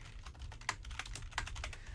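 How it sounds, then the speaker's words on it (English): Quiet rapid clacking of a computer keyboard being typed on, a busy irregular run of keystrokes with a few sharper taps, heard alone at low level. "You can hear my typing, I'm sure."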